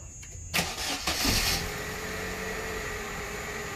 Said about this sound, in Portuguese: tudo pronto para nós dar a partida no carro